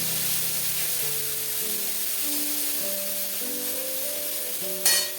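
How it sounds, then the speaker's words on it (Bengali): Fish curry sizzling steadily in a pan as turmeric, cumin and coriander powders are stirred in, a constant frying hiss with a louder scrape near the end, no voices. "এখন একটু নাড়ানাড়ি করে নিই।"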